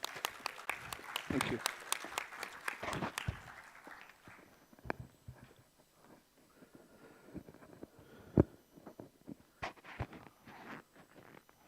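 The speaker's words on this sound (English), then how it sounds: "welcome sir with a huge round of applause." An audience at a CSR and sustainability conclave gives a round of applause that is dense at first, then thins to scattered claps. A voice speaks briefly over it.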